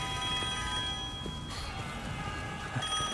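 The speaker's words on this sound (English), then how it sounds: "Guess the phone still works." A telephone rings in a derelict building in the video game Devil May Cry 5, a thin, faint electronic ring repeating over steady ambient hum with no one speaking.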